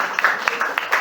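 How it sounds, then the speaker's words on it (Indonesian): A classroom of students claps for a classmate, a short burst of scattered, uneven hand claps heard close by for about a second. "Tepuk tangan buat Lutfi"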